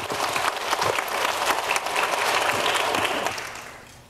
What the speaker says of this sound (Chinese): 那我们今天再用热烈掌声